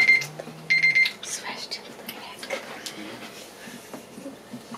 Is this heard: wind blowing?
no